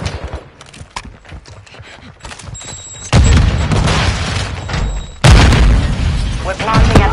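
A planted charge detonates in a video game with heavy booms that jump in sharply twice, over scattered gunfire and a voice talking.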